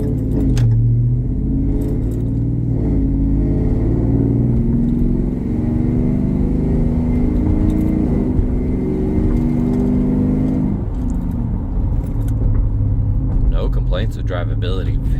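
A 2021 RAM 1500 Classic Express pickup truck drives with a steady, loud low engine rumble and whir that shifts in pitch slightly as it moves, with a voice speaking over it.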